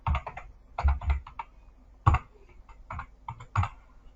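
Typing a password on a computer keyboard: bursts of key clicks in irregular clusters, close and fairly quiet, with short pauses between groups and no talking.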